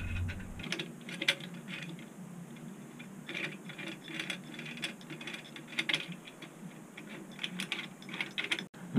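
Small metal nuts slid into the frame of a Wanhao Duplicator 9 3D printer during assembly, giving a run of faint, irregular clicks and light metallic scrapes close by, with no talking.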